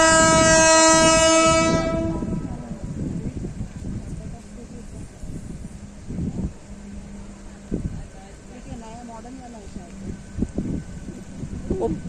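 A freight train passes Kamshet railway station, its loud horn blaring at the start, then rolling wagons rumble and clatter steadily for the rest, with people talking nearby.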